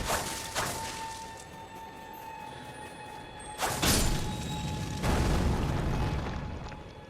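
Teardrop scarab exploding when killed in Elden Ring: a sharp burst, then two heavy booming blasts with long rumbling tails over a faint sustained tone, with no talk.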